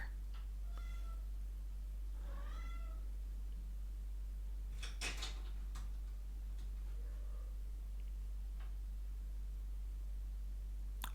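A cat meows softly a few times in a quiet indoor room, the faint calls separated by pauses over a steady low background hum, with a couple of light knocks or taps in between.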